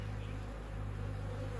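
Honey bees buzz close during a hive inspection, a steady, even drone of many wings with a faintly pulsing hum.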